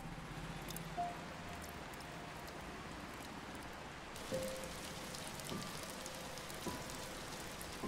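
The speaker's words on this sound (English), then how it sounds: "the rain has come." Steady rain falls in the video game Until Then, a soft, even wash of patter with a few faint chimes and small thumps layered over it, continuous and calm with no voices.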